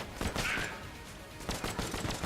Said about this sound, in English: 11 shots out of the hyperlight, and the boss is dead